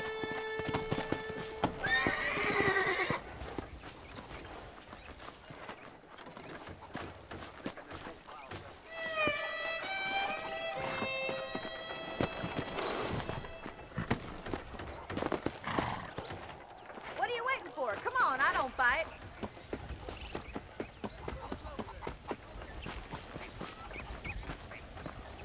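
A horse in Red Dead Redemption, played on PC, with hooves clip-clopping steadily throughout and an occasional whinny, under frequent spoken dialogue between characters.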